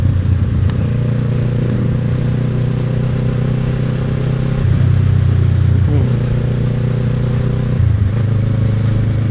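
Kawasaki ER6F Ninja 650 motorcycle ridden through gentle bends, its steady mid-pitched engine drone loud and continuous with shifts in revving, heard close with constant wind rumble.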